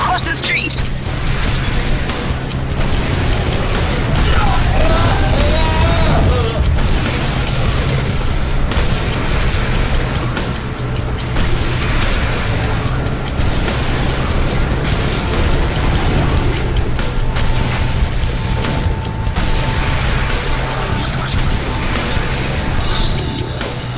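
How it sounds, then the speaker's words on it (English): In the Legendary video game, a heavy earthquake rumbles around a burning museum, with deep sustained booms and crashing explosions, loud and dense throughout, with a voice speaking over parts of it. "There was a huge earthquake centered on the museum."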